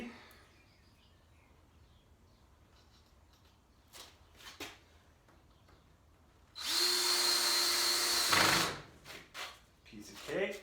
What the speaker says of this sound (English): I love it when the screws go in easy without stripping too bad.